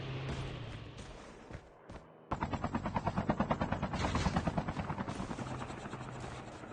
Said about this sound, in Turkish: Şuradan bir helikopter çekeyim önce.